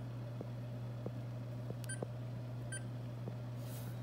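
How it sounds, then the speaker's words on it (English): A kitchen timer being set for thirty minutes gives a few short, quiet beeps, spaced apart over a steady low appliance hum. "you want the timer to be set for 30 minutes"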